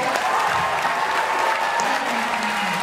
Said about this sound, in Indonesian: kita beri aplaus sekali lagi untuk Bapak E.